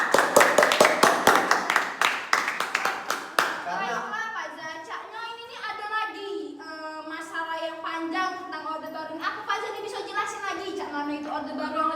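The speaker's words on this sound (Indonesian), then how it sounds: "beri tepuk tangan dulu untuk Alia." A few seconds of brisk clapping from a small crowd fades out as a voice begins talking, continuing alone afterward.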